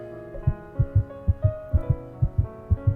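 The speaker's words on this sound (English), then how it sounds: "You hear the sound of a heart beating." A heartbeat sound effect thumps in a steady paired lub-dub rhythm, with deep, close, evenly spaced beats over a soft low hum and no speech.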